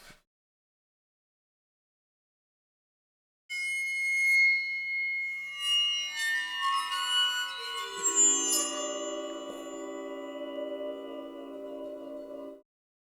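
After a few seconds of silence, shrill, eerie metallic tones from a waterphone ring out with sliding, wavering pitches that overlap and sustain, played alone and fairly loud.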